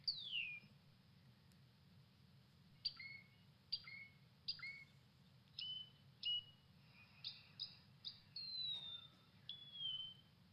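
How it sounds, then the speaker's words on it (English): A recording of a melodious blackbird plays, with a series of clear whistled notes and chirps in separated phrases over a low steady hum, faint and distant. "And this is the melodious blackbird."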